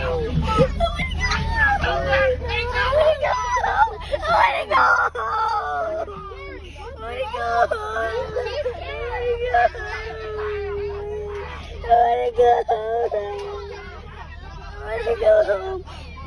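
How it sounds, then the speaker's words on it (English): Children on a school bus crying and screaming in a loud, chaotic babble of young voices, with wails rising and falling throughout against an engine rumble. "Kids crying."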